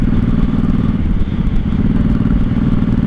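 A 1983 Honda Shadow VT750C motorcycle cruising in fifth gear, its engine a loud, steady low rumble mixed with constant wind and road roar from a rider's-eye position.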